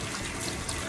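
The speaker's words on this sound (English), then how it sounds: "I'll wash our hands again." Tap water runs steadily while hands are washed at a kitchen sink during holiday turkey and gravy prep, a continuous close trickle and splash with no talking.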